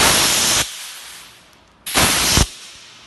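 Compressed air from an air compressor tool blasts out in two loud, close bursts of broadband hiss, each about half a second, separated by quieter residual air flow.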